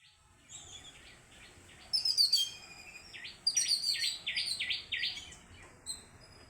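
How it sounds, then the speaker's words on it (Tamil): Large and small mynas chirp and call at a home garden bird sanctuary, giving bursts of sharp whistles and a run of repeated rising notes, fairly close over quiet surroundings. "பெரிய மைனாக்கள் சின்ன மைனாக்கள்"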